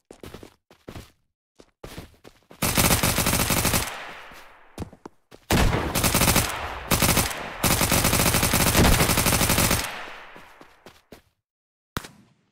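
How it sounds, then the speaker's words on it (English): Rapid bursts of close gunfire in the online survival shooter Unturned, dense sustained volleys with short gaps and scattered single cracks, loud and near, during a night-time player-versus-player match. "Only snipers I hear."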